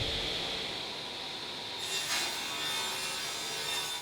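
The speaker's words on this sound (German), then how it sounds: "Max sägt die verleimten Bretter auf Maß." A saw runs steadily through glued-up reclaimed wood boards being cut to size, giving a continuous rasping, grinding cut that is moderately loud and close, with no talking.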